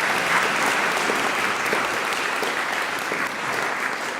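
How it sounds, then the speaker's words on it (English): Loud, dense applause from an audience for musicians performing reconstructed ancient Greek music, a steady sustained roar of clapping that holds throughout. "You might applaud if you like."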